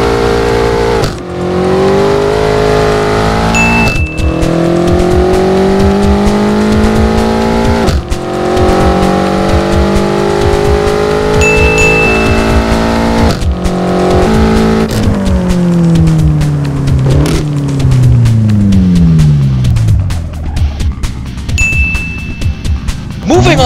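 A BMW M6 racing in Assetto Corsa, its engine loud and close, revving up through gear after gear with rising pitch sweeps and short shift breaks, plus faint tire squeal and occasional chimes.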